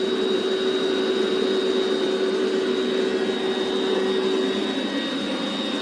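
An electric pump inflates a CHILLSUN two-person air mattress with a steady, loud, unbroken whirring drone and a constant high whine, running alone with no voices.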